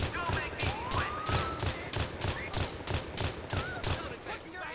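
Rapid bursts of gunfire from the video game GTA IV with the LCPDFR police mod crack out in a dense, regular rhythm, loud and close, with no talk over them.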